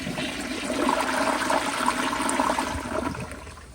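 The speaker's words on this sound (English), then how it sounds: "here's another flush" A 1994 Kohler Wellworth Lite elongated toilet flushes in a steady, close rush of swirling water that holds for a few seconds and then tapers off; no voices are heard.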